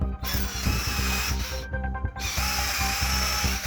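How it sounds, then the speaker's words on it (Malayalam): A power drill drives screws into a wooden light frame, a steady whining motor with brief pauses and restarts, close and loud with no talking. "ഇതുപോലെ 2 സ്ക്രൂ അടിച്ച് അതങ്ങ് പിടിപ്പിക്കുക"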